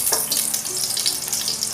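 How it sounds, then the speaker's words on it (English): Two tablespoons of ghee melt in a hot vessel for a mushroom pulav, giving a steady, close, crackling sizzle throughout. "The ghee is melting."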